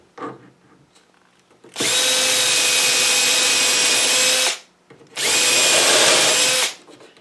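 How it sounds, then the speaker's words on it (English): Two loud bursts of a power drill whirring as it drills a pilot hole in wood, the first about three seconds long and the second slightly shorter, close by, with quiet room noise between. "So I'll drill a pilot hole here."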